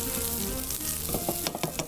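Rice and chicken shashlik ingredients fry in a hot pan with a steady crackling sizzle, loud and close, broken by a few sharper pops and stirring clicks toward the end.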